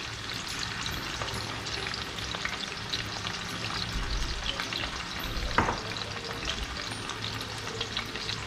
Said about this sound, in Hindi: ये देखें चिकन हो गई है तैयार फ्राई